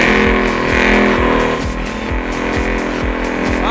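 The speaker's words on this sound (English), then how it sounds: "but not before I do one last burnout" A Roush RS3 Mustang supercharged V8 does a burnout, its engine roaring loud and close. The idle-to-rev pulses repeat steadily, with a rhythmic beat running through the sustained, continuous growl and no voices over it.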